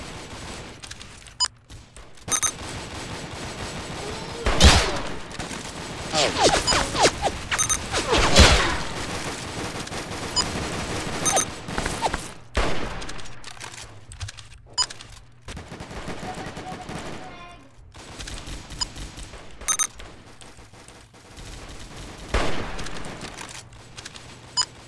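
Roblox shooter game gunfire, with repeated scattered shots and sniper cracks over about twenty-five seconds, some loud booming hits among quieter shots, and game ambience between them.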